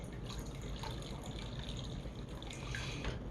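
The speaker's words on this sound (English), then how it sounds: "Okay, we're gonna put a little more water in here." Water running and splashing into a sous vide pot as it is topped up, a steady close trickle with small drips throughout and no talking.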